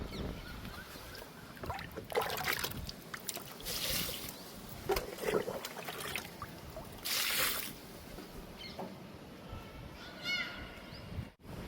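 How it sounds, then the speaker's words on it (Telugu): Water splashes and trickles in bursts onto the soil and leaves of a guava plant, close by, in a few separate pours with outdoor background noise. "జామ మొక్కకి వాటర్ ఇస్తున్నాను."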